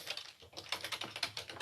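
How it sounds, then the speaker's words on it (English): Rapid typing on a computer keyboard, a quiet, close run of uneven key clicks with no talking. "That's what I get for talking and typing at the same time."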